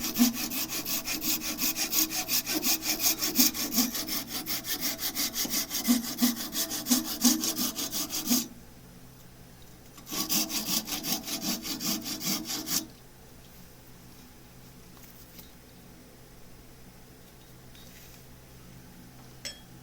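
A handsaw cuts off a turned wood piece from a woodturning project with fast, steady rasping strokes for about eight seconds, pauses, then saws in a second shorter burst before falling quiet.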